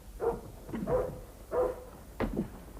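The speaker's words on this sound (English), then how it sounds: "Stop barking." A dog barks indoors at the foot of a staircase in a Jack the Ripper drama, four separate gruff barks in quick succession, close and moderately loud, with no talking.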